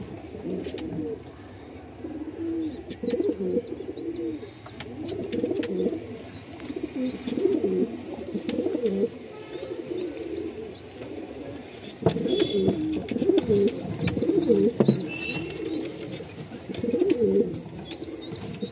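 A quality pigeon, freshly released from the loft, gives soft, repeated throaty coos in a steady series, with faint higher chirps and a brief tap or knock in the background.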